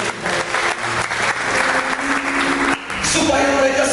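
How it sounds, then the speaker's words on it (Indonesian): A church congregation claps loudly during a sermon, a continuous wash of applause with a voice and some music mixed in beneath it. "Beri tepuk tangan bagi,"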